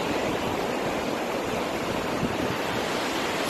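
Waves on a beach, heard as a loud, continuous wash of broadband surf noise with no distinct breaks, close and steady throughout.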